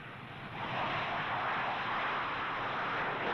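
A-4 jet aircraft engine roaring at a distance, a broad steady rushing noise that swells after the first half second and then holds.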